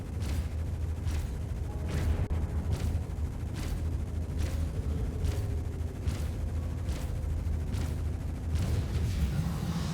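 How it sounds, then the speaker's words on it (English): Spaceship weapons in Star Citizen fire at an asteroid as a steady, evenly spaced series of sharp shots, about one per second, over a constant low engine hum. "Am I just shooting into that asteroid?"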